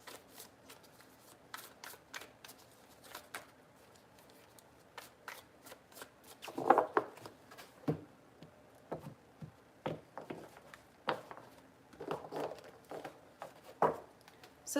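Tarot cards shuffled by hand, a series of quiet, crisp riffling and tapping bursts spaced irregularly, close and soft with no talk.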